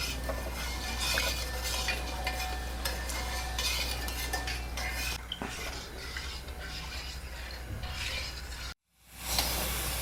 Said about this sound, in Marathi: हे व्यवस्थित हलवत राहायचं म्हणजे खाली लागणार नाही